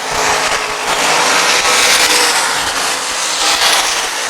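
A USAC race car engine screams loud and close as it blasts down the front straightaway, a sustained roaring rush that swells and fades slightly with no voices.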